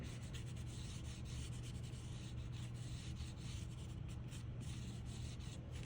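A paint stick drawing a curving highlight on paper for a Jim Dine–style heart, heard as a steady, close dry rubbing and scraping texture that continues without a break.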